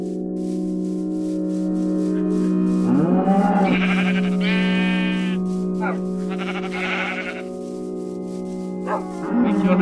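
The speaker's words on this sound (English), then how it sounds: "We kill another sheep." Sheep in Minecraft bleat a few times, wavering and nasal, close over a steady background tone, with a second bleat cluster near the end.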